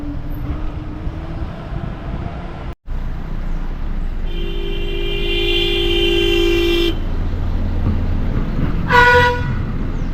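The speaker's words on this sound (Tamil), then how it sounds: "அது இந்த ஸ்பாட்டில் தான் வந்து டாய் ட்ரெயின் நம்ம அப்படியே கிராஸ் பண்ணி போச்சுங்க" The Ooty toy train sounds a long, steady toot on its horn partway through, followed by a short second blast, against the continuous rumble of traffic and a moving bus.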